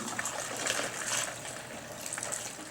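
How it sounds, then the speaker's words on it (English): Nibor D solution is poured through a funnel into a TrueTech foamer, a faint, uneven trickle and gurgle of liquid running continuously at close range. "Pouring your solution in."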